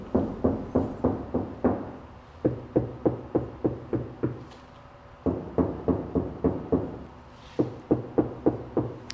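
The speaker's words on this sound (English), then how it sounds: "There's literally no vibrations coming from the door when I knock on here." Knuckles rap on a car door panel fitted with air baffles in quick bursts of four to six dull, solid knocks, with short pauses between groups.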